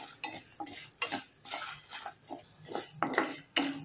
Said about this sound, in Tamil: உளுந்து நல்லா செவந்து வாசனை வர வரைக்கும் வறுக்கணும்.